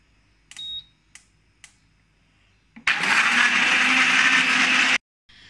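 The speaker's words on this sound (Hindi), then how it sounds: "ये हम इसके अंदर आइस क्यूब्स डाल देंगे व्यूअर्स, और इसको अच्छे तरीके से ब्लेंड कर लेंगे" A countertop blender whirs loudly for about two seconds, crushing ice cubes in water for a mint margarita, after a few brief clicks and taps as it is set up; the motor then stops abruptly.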